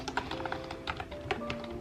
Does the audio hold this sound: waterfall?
no